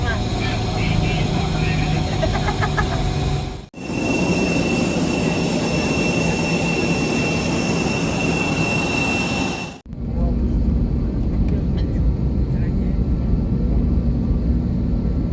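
Airliner engines idling before takeoff on a flight to Phuket, a loud steady broadband roar heard from inside the cabin, cut by two brief dropouts.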